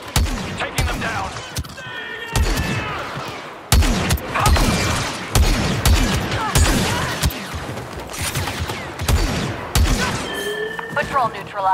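Blaster fire rattles through a Star Wars Battlefront 2 firefight as sharp, repeated shots come in irregular volleys, close and loud. Whining sci-fi tones and voices mix in underneath.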